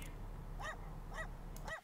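A dog in the video game West Hunt barks three times in evenly spaced, fairly faint yips over a steady low game background hum.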